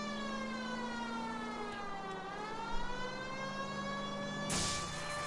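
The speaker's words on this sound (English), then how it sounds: "Can't you hear my sirens?" A police car siren wails continuously in a video game, a steady pitched tone sweeping gently up and down under engine noise, with a brief burst of noise near the end and no talking.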